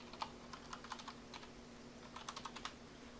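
Quick light taps on a computer keyboard, a few short bursts of typing with pauses between, faint and close over a low steady hum.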